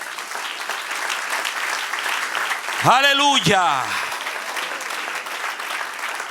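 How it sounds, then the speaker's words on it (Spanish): A church congregation claps in a short, fairly soft round of applause under a preacher's voice, and a voice speaks once more at the end. "Dele un aplauso al que reina."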